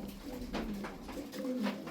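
Soft, repeated cooing from a fancy flying pigeon close by, low throaty calls rolling over a few seconds with other birds faintly around.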